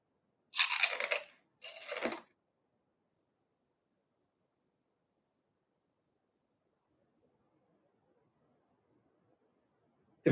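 Two sharp, close crunches from biting into a crispy habanero chili snack, followed by near silence.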